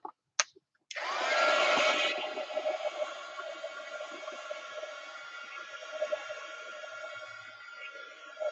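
A hair dryer switches on after a couple of clicks and blows steadily at close range over a junk journal page, a loud whooshing roar that eases slightly and holds.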